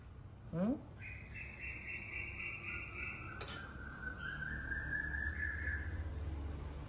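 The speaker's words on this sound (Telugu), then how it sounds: "చూసారా పిచ్చుకలు" Several high, whistly sparrow chirps ring out over a steady background hum, a few short calls and longer bright trills at moderate distance.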